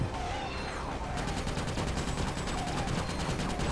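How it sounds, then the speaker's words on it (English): Rapid bursts of handgun fire in the Ratchet Deadlocked video game, loud and continuous, with shots rattling in quick succession throughout. "You kill all sorts of tanks with your menacing handguns."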